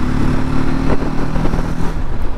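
A TVS Apache RTR 310 motorcycle pulls forward under acceleration, its engine a loud, steady drone with a gruff low-end grunt, heard up close and alone with no talking.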